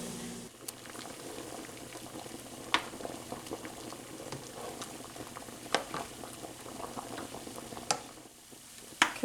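Pierogies boil in a pot of water on a stove, a faint, continuous bubbling with scattered pops and occasional louder splashes or clinks, and no talking.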